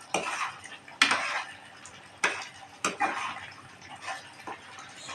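A spoon stirs a paste of fried cashew, melon and charoli seeds into a curry in a metal pot, giving a few sharp knocks and scrapes against the pot between softer wet swirling sounds, with a faint sizzle underneath.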